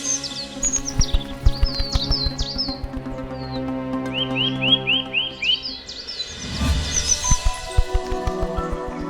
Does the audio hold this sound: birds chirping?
yes